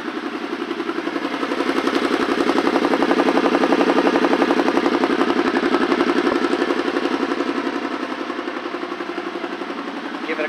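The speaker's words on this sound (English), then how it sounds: "Start that up for you real quick here." Engine of a 2018 Kawasaki Teryx-4 long-travel UTV with exhaust baffles in, idling close by with a steady, throbbing, slightly knocking rumble that swells a little in the middle and then settles.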